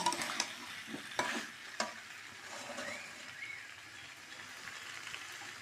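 A spoon scrapes and stirs thick masala in a pan, with a few sharp knocks at the start, then a quiet, steady sizzle of sautéing continues alone.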